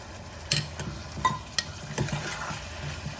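Cowpea and potato curry in a pressure cooker sizzles in oil after water is added, with a spoon stirring and scraping the pot in irregular clatters over a steady frying hiss.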